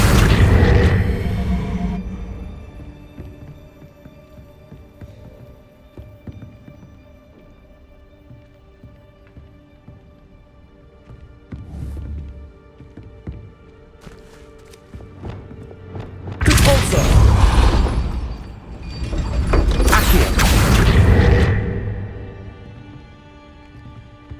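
Spell blasts and impacts in the Hogwarts Legacy video game, with a loud burst at the start and two big booming explosions later, separated by quieter rumbling stretches and a voice casting spells.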